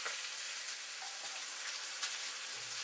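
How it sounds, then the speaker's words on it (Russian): Blood sausage frying in a pan with onion and ham gives a steady, dense sizzle with faint crackles and pops throughout, close and even, with no talking. "Потемнела колбаса, да? И вместе обжарилась с луком и ветчиной."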